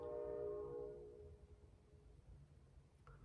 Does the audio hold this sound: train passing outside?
yes